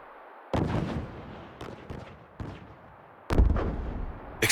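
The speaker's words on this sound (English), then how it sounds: "Explosions? A battle?" Explosions and gunfire from a battle in Xenoblade Chronicles 3, a series of sharp booming blasts, four or five heavy hits spaced irregularly with rumbling decay between them, loud and with no talk.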